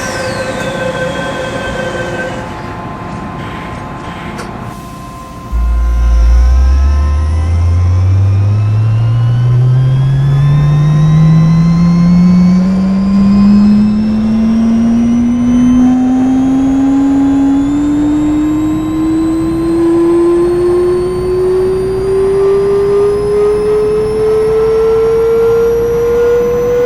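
Simulated MTR Tsuen Wan line M-Train in OpenBVE, running from Prince Edward to Lai King with strong high-voltage noise: a loud motor whine rises steadily in pitch as the train accelerates, over a continuous rumbling wheel roar.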